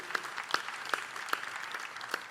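A conference audience applauds a speaker, a soft, continuous patter of many hands with a few sharper claps standing out, heard from a distance for a brief moment.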